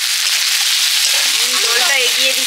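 Cumin, coriander and mustard seeds sizzle loudly in hot oil, a dense close frying hiss that continues steadily, with a faint voice murmuring underneath.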